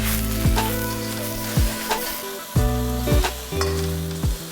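Chopped vegetables and tofu sizzle and fry hard in a hot wok, with several loud stir-tossing clatters breaking up the steady, close hiss.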